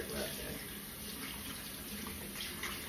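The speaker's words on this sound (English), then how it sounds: "actually I can go ahead and rinse it right here" Tap water runs steadily as a hair-colour bottle is rinsed under it at a sink, a close, continuous splashing rush with a voice faintly underneath.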